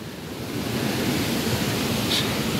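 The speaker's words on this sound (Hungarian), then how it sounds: "Itt egy patak, ott a tenger" A stream and sea waves in the Scottish Highlands make a steady, even wash of water that stays loud and unbroken, with a faint breathy rush like wind over the microphone and no voices.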